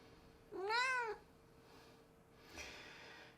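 A house cat gives one clear, rising-and-falling meow up close, followed by a short soft snort or breath, in a quiet room.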